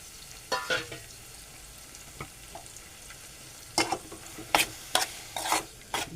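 Mung dal halva is stirred and sautéed in a pan, giving soft scraping strokes and faint sizzling with sharper clinks and scrapes toward the end, no voices.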